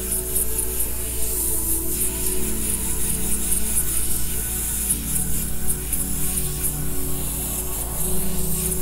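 An airbrush sprays paint onto a T-shirt in a steady, close hiss that runs on without a break, rising and dipping slightly in strength.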